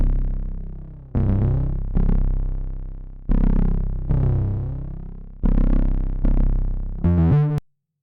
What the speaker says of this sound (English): we're gonna just listen to the bass line sequence that I captured without Basslane Pro